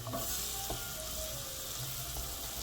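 Chopped onion and sliced leeks sizzle in melted butter, a steady soft frying hiss with faint stirring clicks, close and continuous with no talking.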